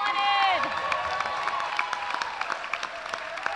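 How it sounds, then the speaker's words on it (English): An audience at a lip sync challenge charity event applauds in steady, fairly loud clapping that fades gradually, with cheering and a voice over the microphone early on. "Give them applause."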